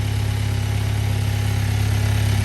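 Hyundai Elantra N warming up, its engine holding a steady, even idle rumble close by with no voices.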